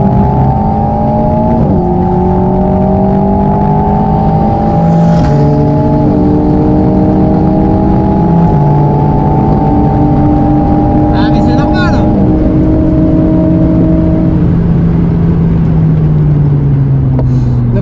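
An Alpine A110 S accelerates hard on a track, its engine note climbing through several gears in steady rising sweeps, loud and close from inside the cabin, with talk heard faintly underneath.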